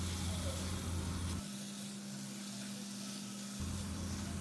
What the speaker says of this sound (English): now on medium to high flame, we will fry the mutton for at least 8 to 10 minutes